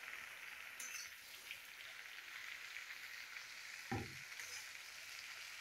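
Bottle gourd leaves and stems are stirred in a frying pan with a faint, steady sizzle, one brief louder scrape or clunk partway through.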